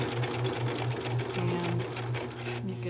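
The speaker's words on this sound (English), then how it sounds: "on my machine, I can just kind of hold it, and it does stitching in the same place" A sewing machine stitching along the edges of junk journal pages, running steadily with a fast, even mechanical rhythm, close and alone without talking.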